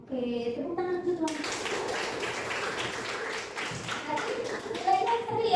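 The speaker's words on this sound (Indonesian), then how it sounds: "tepuk tangan dulu" A classroom of students claps together in a continuous burst of applause lasting several seconds, with children's voices chattering over it at the start and again near the end.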